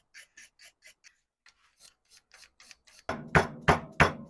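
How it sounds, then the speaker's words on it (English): A brush scrubs an area inside an AE86's interior in quick, light, close strokes. It then turns to heavier, louder rubbing passes near the end. "We're just going to scrub off"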